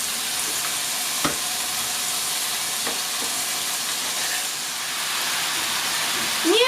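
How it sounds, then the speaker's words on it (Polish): Pieces of pork for goulash frying over fairly high heat in a pan, a loud continuous sizzle and hiss with a few soft knocks and a brief scrape near the end. "Mięso smażymy na dość dużym ogniu."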